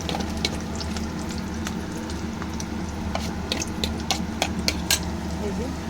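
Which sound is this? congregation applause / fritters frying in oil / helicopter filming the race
fritters frying in oil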